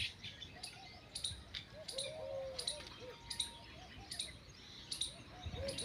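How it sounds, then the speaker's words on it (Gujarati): Weaver birds and small sparrows chirp in a steady scatter of bright, faint calls at a temple shrine outdoors, with soft low cooing mixed in behind. "સુઘર્યું અને નાની ચકલિયું ચોખા સરવા માટે સમાધિએ પહોંચી ગઈ છે."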